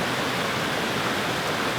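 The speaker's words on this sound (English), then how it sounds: "that rush of the water." Steady rushing water in a rain-soaked forest, a dense unbroken roar filling the whole clip at constant loudness with no breaks or voices.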